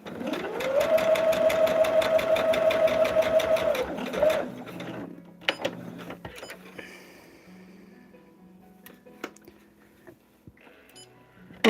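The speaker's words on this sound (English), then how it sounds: "We're just sewing down the line" A sewing machine stitches fabric star pieces, a steady, close mechanical whir for about four seconds before stopping, followed by scattered clicks and handling sounds.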